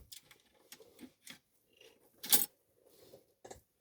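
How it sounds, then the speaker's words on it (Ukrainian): Cleaning rod being pulled from a Kalashnikov assault rifle: a series of quiet close metallic clicks and taps, with one louder scraping clack near the middle and a final tap, no talking. "Відокремити шомпол."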